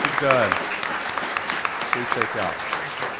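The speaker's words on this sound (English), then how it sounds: "So how about a big round of applause for these guys?" Audience applause fills a stage panel at a New Hampshire comic convention, a steady wash of clapping with sharp individual claps throughout, while someone speaks over it through the PA.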